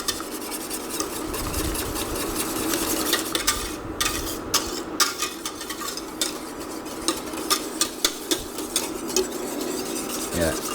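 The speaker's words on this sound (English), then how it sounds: "So just the whisk in there and keep it moving it around." A whisk stirs sauce around a metal pot, with a continuous swishing scrape and sharp, repeated clinks against the pot's sides at a steady pace.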